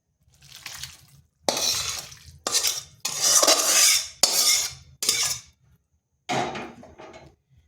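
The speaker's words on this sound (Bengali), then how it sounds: "এরপর ভালোভাবে মিশিয়ে নিচ্ছি।" Pitha dough made with lukewarm water is mixed in a bowl, heard as separate bursts of wet scraping and stirring that stop and restart several times, close up and alone.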